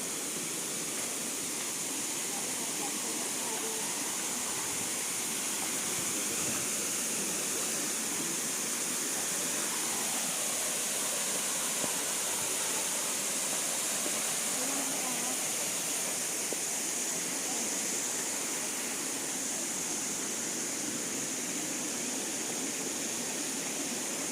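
Soi Sawan waterfall, flowing thinly in the late rainy season, gives a steady, even rush of falling water that holds unchanged throughout, moderately loud, with no voices.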